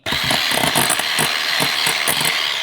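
A whisk beats a mixture in a bowl to stiff peaks while tinned pineapple juice is dribbled in, making fast, continuous scraping and clattering strokes that are loud, close and heard alone.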